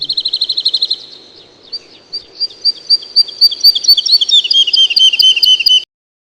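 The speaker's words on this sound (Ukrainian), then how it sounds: "Веселіше співають пташки." Several birds sing and twitter in a lively, continuous chorus of high chirps and trills, growing busier and denser before cutting off abruptly.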